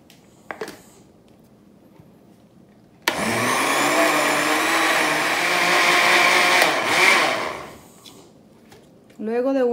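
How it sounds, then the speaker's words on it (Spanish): A kitchen blender whirs loudly for several seconds as it mixes a batter of flour, milk and eggs, then winds down. Faint speech-like sounds come before and after it. "Luego de unos segundos vamos a ayudarle a la batidora revolviendo nosotros todo lo que quede pegado en los lados del vaso"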